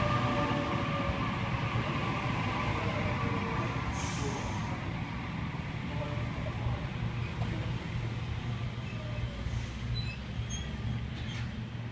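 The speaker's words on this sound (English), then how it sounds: "Here we have Waratah A62 arriving into platform number 2." A Sydney Trains Waratah electric train rumbles steadily as it pulls into a station platform, with a low continuous drone, faint squeals and a brief hiss of brakes.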